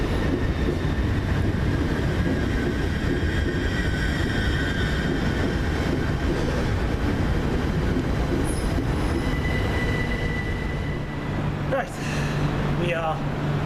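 British Rail Class 357 unit 357217 pulling into London Fenchurch Street, a low steady rumble of wheels and engine building through the station, with squealing brakes near the end and a voice talking quietly over it.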